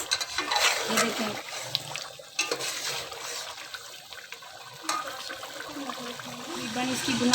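Water pours into a pot of potato rice with aloo and masala, a steady splashing stream close by that eases into softer trickling and bubbling. Someone talks over it.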